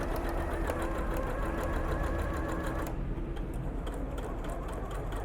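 A sewing machine stitching a straight seam, running as a fast, steady mechanical whir and clatter close by, slightly changing in tone partway through, with no talking.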